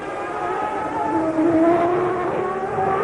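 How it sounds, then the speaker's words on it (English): Formula One cars racing at the 1992 Australian Grand Prix on a street circuit: a loud, continuous high-pitched engine whine that rises and falls as the cars pass close by, with faint tyre noise and no talking. "See Berger's car understeering a bit there as he went in"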